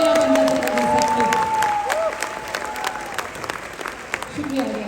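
Audience applause at a large business seminar, steady dense clapping that slowly thins out, with a voice talking over it.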